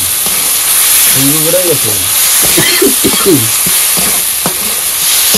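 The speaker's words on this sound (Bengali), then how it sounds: "এবার দিয়ে দেবো অক্টোপাস। দিয়ে কষে দাও, কষে দাও।" Octopus from a Sundarbans river frying in spice paste while being stirred hard, a loud close sizzle with scraping strokes of the spoon, as a voice speaks briefly over the cooking.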